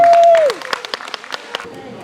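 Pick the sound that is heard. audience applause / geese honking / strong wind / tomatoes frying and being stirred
audience applause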